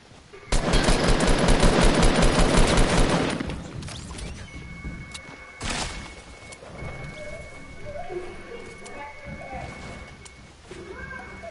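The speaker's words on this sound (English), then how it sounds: "I'm getting shot from different angles" Video game gunfire from several directions: a loud, rapid machine-gun burst lasting a few seconds, then scattered single shots and clatter at lower level, with a voice talking faintly.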